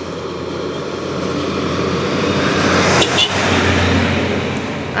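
Vehicles pass along a foggy road, a steady broad rumble of traffic with one nearer car or motorbike sweeping by around the middle, continuous and fairly loud with no talking.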